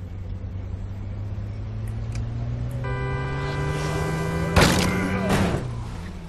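A car in the zombie survival game State of Decay revs in a steady, rising engine drone, then takes two heavy crunching impacts close together near the end as it is wrecked.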